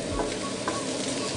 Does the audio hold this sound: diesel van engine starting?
no